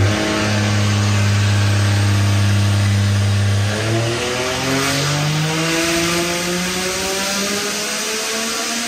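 A Nitto forged Barra engine runs on a dyno, holding a loud, steady drone before climbing hard through rising revs toward high RPM, sustained and close.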